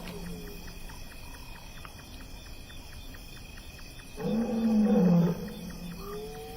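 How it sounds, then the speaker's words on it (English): A male lion roars at night, the calls carrying across an African valley and rising loud for about a second before fading, with steady insect chirps ticking throughout. "Distant roars echo through the cool night air."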